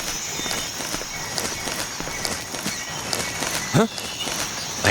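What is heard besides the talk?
footsteps in the video game Metal Gear Solid 3: Snake Eater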